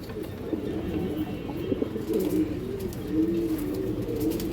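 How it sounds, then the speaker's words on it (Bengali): Green-necked pigeons in a breeding loft coo continuously in low, overlapping murmurs, several birds calling close by at once without any talk. "এটা সবুজ গলা কবুতর দর্শক।"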